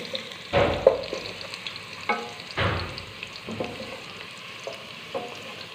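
Onions fry in a pan with whole coriander seeds, and a few distinct stirring scrapes rise over a low sizzle with quiet gaps between strokes.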